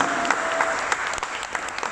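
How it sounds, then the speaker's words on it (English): An indoor audience at a Q&A session gives a steady round of dense applause that stays even throughout, with no pauses and no speech. "can we give one more round of applause for Eric, please?"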